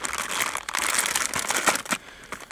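Plastic bag crinkled and rustled while unpacking a Rotakt generator, a loud close continuous crumpling that fades in the final half second.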